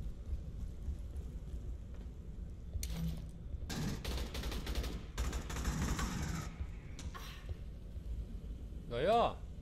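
Gunfire in Aliens: Colonial Marines: a short burst, then a sustained stretch of rapid automatic fire lasting a few seconds, fairly faint against a quiet background, with a voice speaking around it.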